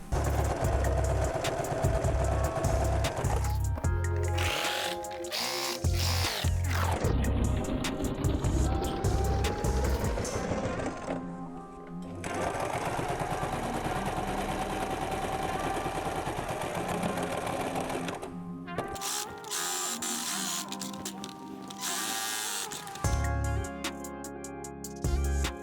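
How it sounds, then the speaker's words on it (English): A sewing machine top stitching a cushion runs in bursts of rapid mechanical whirring, pausing and restarting several times, close and fairly loud. "Let's do some top stitching."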